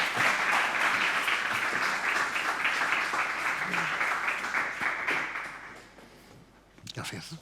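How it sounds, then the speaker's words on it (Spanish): Audience applause fills a conference hall at a panel debate, steady clapping from many hands at close range that gradually thins and fades, with a brief burst of noise near the end. "Les damos un aplauso"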